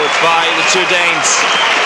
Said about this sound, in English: of course a lot of applause for the two guys without sleeves.